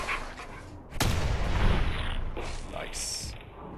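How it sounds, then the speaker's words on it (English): A single sharp shotgun blast on a critical hit in the Fallout 4 video game, followed by a rumbling tail and softer game sounds, with someone talking over the gunfire. "Good shotgun critical hit."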